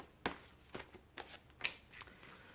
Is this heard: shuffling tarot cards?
yes